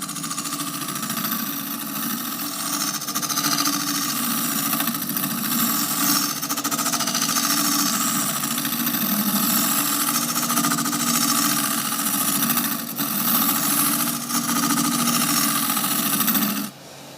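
A wood lathe spins a shaving brush handle blank as it is shaped without the tailstock, a continuous loud motor drone with dense rattling, chattering tool contact, ending with a sudden drop as the machine stops.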